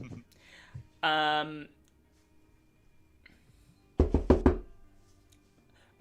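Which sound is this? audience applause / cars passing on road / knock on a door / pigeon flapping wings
knock on a door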